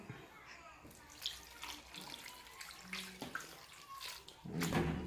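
Water pours into a cooking pot for paksiw tilapia with vinegar and seasonings, a close splashing gush that rises toward the end, with faint voices in the background.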